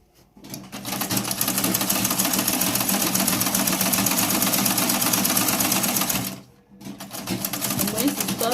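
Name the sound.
sewing machine stitching a side pocket seam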